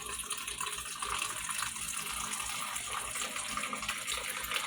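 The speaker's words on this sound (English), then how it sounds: "Okay, I'm using the AquaPure water filtration system" Cool water runs steadily from an AquaPure filtration system for making cowboy coffee, a soft continuous trickle and gush with no talking.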